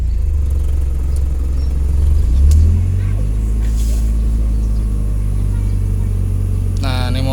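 A 1992 Ford Laser Champ 1.8 liftback with manual gearbox idles with a steady low hum, the engine note dipping and shifting briefly as the air conditioning is switched on, with a voice speaking over it.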